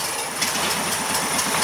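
A small engine running steadily after being choked and primed, a loud, close, even burble with a rapid rhythmic pulse and no talk.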